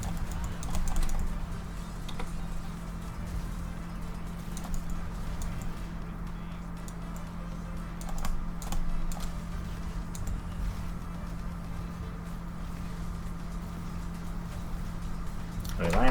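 Fast, steady mouse clicking while playing Diablo 3, a continuous stream of light clicks running throughout over a background hum, with occasional louder moments.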